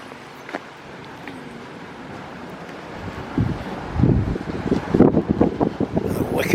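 Wind gusting across an open microphone, low rumbling buffets that grow stronger and more turbulent toward the end, no voices.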